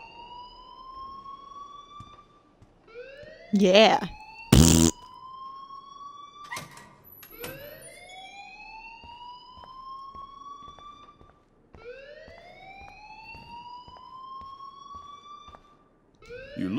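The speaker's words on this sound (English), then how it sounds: "please turn off that alarm since that's your job" In the video game Life is Strange, a school alarm wails in repeated rising siren sweeps at a moderate level, broken by a couple of loud bursts and door-like knocks, with one short spoken word.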